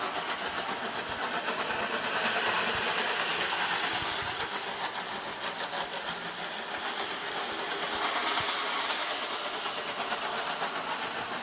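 A model train set runs steadily on its track, a continuous whirring, clattering motor hum at close range with gentle rises and falls in loudness and no voices over it.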